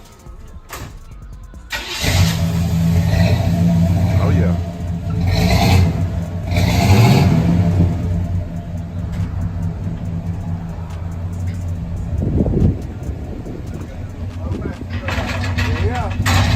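Car engine with a single Flowmaster exhaust starts and revs in loud, rumbling bursts that settle back to a steady idle, close by, with a few short spoken remarks over it.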